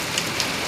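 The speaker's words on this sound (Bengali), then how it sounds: "দেখেন কি সুন্দর বৃষ্টি" Steady rain falls as a dense, even hiss with a couple of faint drip accents, brief and close, with no voices.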